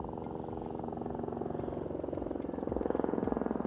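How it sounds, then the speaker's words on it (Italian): Helicopter flying in over an Alpine valley near the Assietta ridge, arriving to hook up a load of material: a steady low rotor drone that builds slightly louder toward the end, with no talk over it. "Eccolo qui l'elicottero che sta arrivando ad attaccare il materiale."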